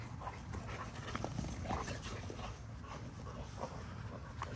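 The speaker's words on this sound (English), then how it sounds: "I always let my dogs rough up the little ones." Adult dogs roughhouse with puppies nearby, giving scuffling, panting, small whimpers and paw patter in a busy, continuous tussle without clear speech.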